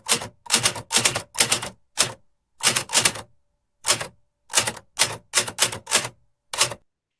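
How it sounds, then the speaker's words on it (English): Synthetic typewriter keystrokes generated for sound design: a run of sharp, clacking strikes in uneven bursts, some tightly grouped and others spaced by short pauses, close and crisp with no voices. "And here we have typewriter."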